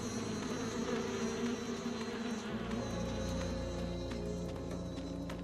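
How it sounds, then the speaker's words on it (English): A steady insect drone from bees hovering over a honey pool in the Shadow of Rome game, continuous and mid-level, with the game's low background ambience underneath. "See, there's a pool of honey with bees around it."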